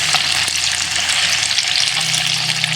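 Tofu frying in heated oil makes a loud, dense, continuous sizzle that holds steady throughout, close up with no voices.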